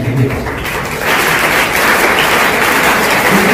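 Students at an SSC farewell ceremony applaud a motivational lecture, a dense, steady wash of clapping that swells and holds for several seconds.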